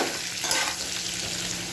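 Potatoes frying with salt and turmeric in a pan, giving a dense, continuous close sizzle with a little stirring, steady and unbroken.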